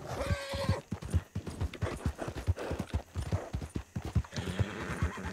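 Horse hooves clip-clopping in Red Dead Online, a close, steady run of hoofbeats on firm ground with a horse's whinny near the start, loud and alone.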